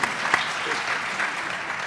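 An audience at a speech gives a short burst of steady, dense clapping filling the room throughout.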